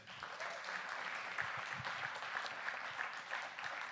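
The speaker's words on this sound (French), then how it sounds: "J'aimerais que vous applaudissiez bien fort, M. Charles-André Rivet." An audience at a big band concert applauds a musician with steady, sustained clapping from a crowd in a hall. The applause holds an even level throughout, with no speech over it.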